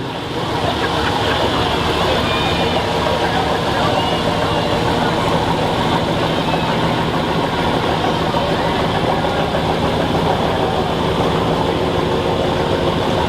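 A 1969 White G900 truck rolls past in a Summerfest parade, its low engine rumble steady and moderately close while a voice talks over it.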